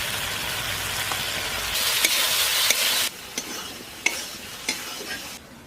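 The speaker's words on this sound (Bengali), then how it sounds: "এবার সে কেটে রাখা আলুগুলো দিয়ে দিচ্ছি।" Cut potatoes hit a hot pan already seasoned with salt and turmeric, setting off a bright, close sizzle. Several sharp clacks and scrapes of stirring follow as the frying settles to a softer crackle.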